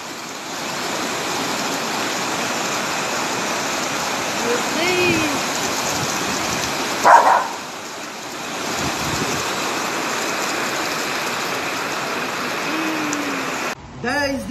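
Heavy rain pours and water flows in the Aerolândia area of Fortaleza, Brazil, a dense continuous roar filling the whole scene, with a brief exclamation from a voice partway through.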